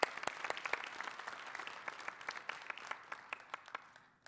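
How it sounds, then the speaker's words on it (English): An audience at a State Bar of Georgia midyear meeting claps steadily for several seconds, the applause fairly faint and distant and thinning toward the end. "So let's give them all a round of applause for the work that they've done."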